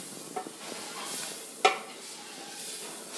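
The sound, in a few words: hot water mixed into sizzling spiced oil in bean pot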